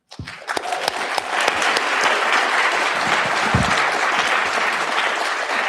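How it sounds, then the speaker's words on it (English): Steady, enthusiastic applause from a crowd at a Democratic town hall, building quickly and sustaining at full strength with no talking. "Can we have one last round of applause for all of our candidates"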